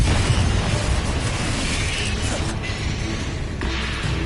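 Confringo explosive spell cast in a video game: continuous noisy burst and rumble with creaking, mechanical texture, moderately loud and sustained, no voices.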